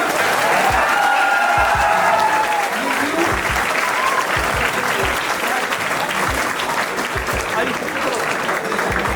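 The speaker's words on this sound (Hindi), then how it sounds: "एक बार जोरदार ताली तो बनती है ना।" Loud, sustained applause from a student audience at a coaching institute event with a film actor, dense clapping filling the whole stretch, with crowd voices mixed in.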